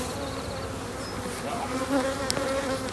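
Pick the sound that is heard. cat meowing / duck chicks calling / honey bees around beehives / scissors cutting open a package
honey bees around beehives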